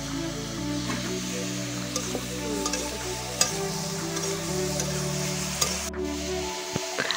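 Food stirred and frying in a pan in an Assamese home kitchen, with salt and turmeric being added, gives a steady sizzle and scraping stir sounds over a low steady hum, with occasional clinks.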